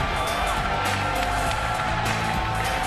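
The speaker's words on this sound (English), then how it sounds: "Listen to this crowd!" A wrestling arena crowd at a TNA event roars and cheers loudly and continuously, a dense wall of noise with no pauses.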